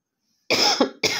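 A person with a heavy cold coughs twice, close and loud: a long harsh cough followed by a short second one after a brief pause, in a home kitchen.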